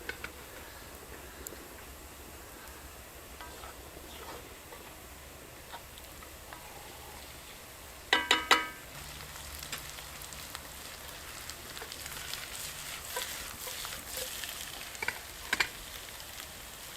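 Potatoes reheat over a campfire with a soft, steady sizzle and crackle, plus a few brief clinks of cookware partway through, quiet and close.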